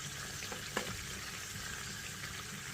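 A burger patty fries in a pan with a steady, soft sizzle and a couple of faint clicks from a utensil, close by and heard alone.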